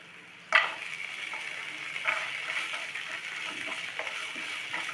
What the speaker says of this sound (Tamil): இப்போ இந்த வெங்காயம் தக்காளி சேர்ந்து வதங்கிருச்சு. இதில் நம்ம எடுத்து கழுவி வச்சுருக்க நண்டை சேர்த்துக்கிறோம்.